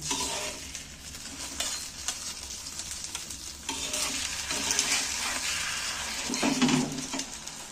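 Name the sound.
egg roll flipped and frying in pan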